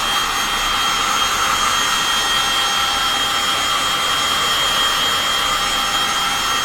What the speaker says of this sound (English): When you put a heat gun on paint like this